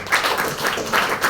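An audience claps at an indoor wellness presentation, with a brief, moderately loud patter of many hands and no voices.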